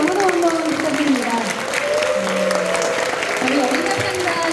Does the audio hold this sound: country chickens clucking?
no